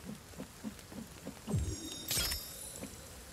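Rain pattering through a shelter roof in the survival video game The Forest, soft scattered drops under low rumbling and a couple of brief louder thumps and a bright swish midway.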